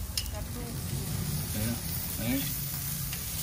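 Beef ribs sizzling on an outdoor grill during a carne asada cookout: a steady, close frying hiss runs throughout, with people talking over it.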